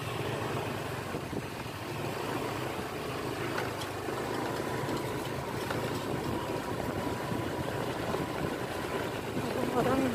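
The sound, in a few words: motorbike engine while riding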